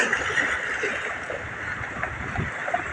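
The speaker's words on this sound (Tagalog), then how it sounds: "Lakas ng agos." A strong river current flowing at a fishing spot, heard as a steady dense rushing and gurgling wash of water, close and continuous without pause.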